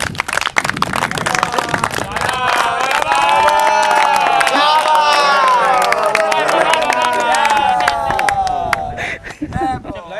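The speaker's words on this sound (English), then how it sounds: "So, gentlemen, I would request the NCCA boys especially give a round of applause to Vaibhav." An audience at the 2009 Raisinland Trophy prize presentation gives a round of applause, a dense burst of clapping and cheering that holds steady and tapers off at the end.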